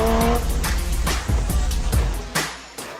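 A road-legal Porsche 718 Cayman GT4 mid-engine sports car driving hard, a loud close engine roar broken by repeated sharp surges and shifts, with tire noise underneath.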